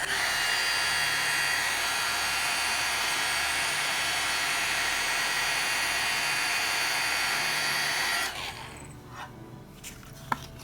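An embossing heat gun blows with a loud, steady whooshing hiss over a heat-resistant craft mat, cutting off near the end to leave a quiet room with light handling noises.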